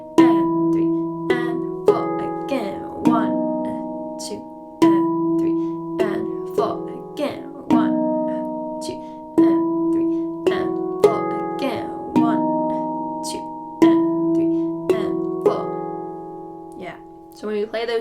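Handpan playing a beginner piece in E Sabye tuning, a steady rhythmic sequence of ringing metallic tone-field strikes with sustained overlapping resonance, close and clear with no voice over it.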